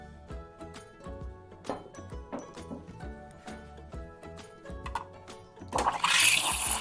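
Milk pours and splashes steadily into a cup of chai, swelling into a louder rushing stream near the end, with clinks and background clatter.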